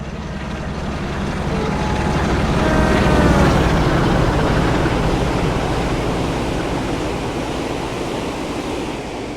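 Train engines from the Twin Peaks locomotive pair on the Midland Main Line in Train Sim World 3 pass close by as a loud, broad rumbling roar that swells to a peak and then holds steady, with no talking.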